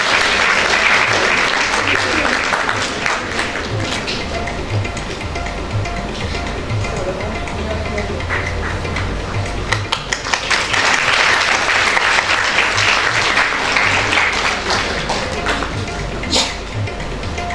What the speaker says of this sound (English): Kindly give them a huge round of applause.